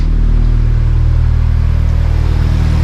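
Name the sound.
car with W1 turbo and two-muffler exhaust running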